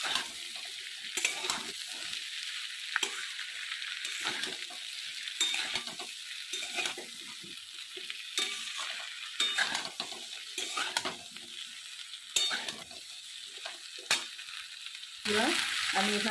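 Fried soybean chunks for chili soya stirred around a hot pan, a steady oily sizzle broken by repeated scraping and clinking strokes of a spatula against the metal, close and continuous with no talk.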